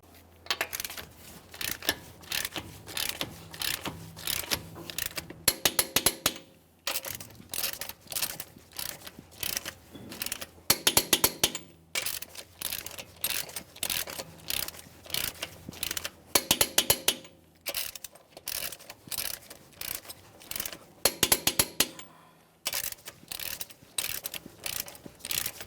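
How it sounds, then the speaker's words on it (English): A torque wrench tightens the wheel lug nuts on a 2015-2020 Ford F-150 in a crisscross pattern, giving repeated runs of ratcheting clicks, each group ending in a sharper click burst, close and clear. "We'll be torquing these to 150 foot-pounds in a crisscross manner."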